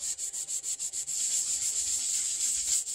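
Oil being rubbed with a rag into the dry fretboard of a Gibson Maestro Les Paul Jr guitar, giving a close, rhythmic scrubbing swish that turns into continuous rubbing with no talk.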